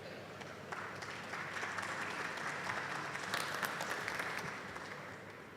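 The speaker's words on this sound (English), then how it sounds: "A round of applause for Lee Miner as he makes his way to the stage for the presentation" A conference audience claps steadily as a presenter walks to the stage at a fintech event, a dense sustained round of applause that holds level throughout without voices over it.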